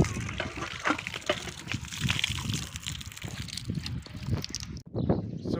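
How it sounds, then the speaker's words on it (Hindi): Cold water flows and collects outdoors in a village, making a faint, uneven trickle and slosh with irregular splashes. "ये देख, ये पानी कहाँ जा रहा है, ये इधर से इधर होके ये जमा हो रहा है पानी।"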